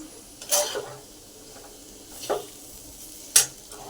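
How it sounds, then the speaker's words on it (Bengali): Potatoes frying in a pan at home, a soft steady sizzle underneath, broken by a few sharp clinks and scrapes of a utensil stirring against the pan. "এই যে একটুখানি আলু ভাজা বসিয়েছি"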